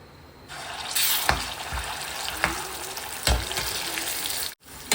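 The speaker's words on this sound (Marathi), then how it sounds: "मसाल्याला तेल फुटेपर्यंत मसाला भाजून आपण तिखट मीठ घालून घेऊ" Ready-made masala paste frying in hot oil with bay leaf for Khandeshi sev bhaji, a loud dense sizzle broken by spoon stirring thumps, close, ending with a brief cutoff.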